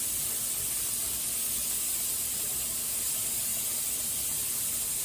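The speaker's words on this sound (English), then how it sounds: "I'll let you see the steam." Steam hisses steadily from the vent of a pressure canner used for home-canning mini sweet peppers, a loud, constant broadband rush lasting throughout with no talking.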